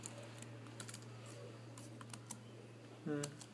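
Quiet, close typing patters on a computer keyboard as text is entered in Thai and English, an irregular run of soft key clicks over a low hum, with a brief short sound near the end.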